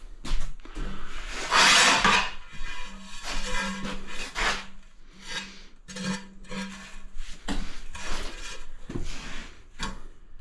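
Tile being scored on a Sigma manual tile cutter, a rough continuous scraping and rubbing that runs in strokes, loudest early on, with small knocks of the cutter between passes.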